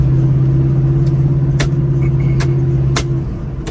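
A 1972 Plymouth Barracuda cruising down the road, a steady close engine drone with a constant low hum, a few brief sharp clicks over it, easing slightly at the end.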